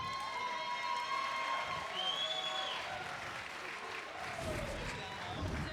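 Crowd at a women's strawweight MMA event cheering and applauding, a steady roar of clapping and shouts with some voices rising above it, sustained throughout.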